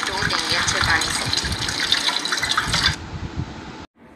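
Running water gushes steadily, like a tap pouring over dates in a sink, then cuts off abruptly near the end.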